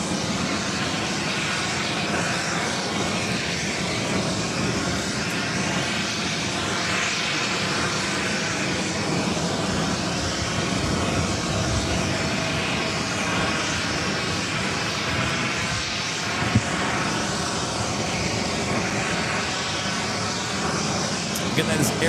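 An airliner takes off from runway 4 Left at JFK, its jet engines a loud, steady broadband roar that fills the scene without pause. Voices talk over the engine noise.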